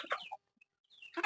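Free-range village chickens (ayam kampung) give a few short clucks near the start, then a pause and a louder burst of clucking at the end, close by with no talk.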